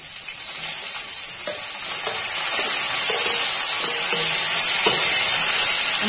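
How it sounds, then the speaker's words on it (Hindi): Onions frying in oil in a pan for a Bihari-style tahari, a steady close sizzle with a bright hiss that swells slightly and holds, with faint stirring clicks underneath. "प्याज को थोड़ा फ्राई कर लेंगे फ्रेंड्स"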